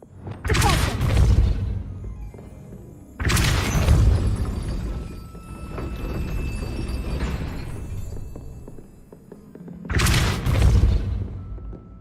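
Confringo fire-blast spell cast in the video game Hogwarts Legacy, three loud booming explosions with rumbling tails spaced several seconds apart, background game ambience between.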